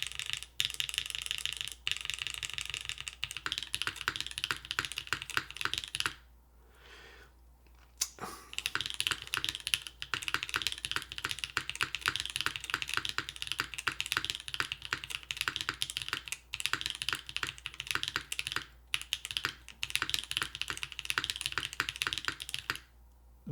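Rapid, continuous typing on a Tofu65 keyboard with a carbon fiber plate in top mount and no foam gives crisp, close clacks with occasional deeper spacebar hits and a brief pause.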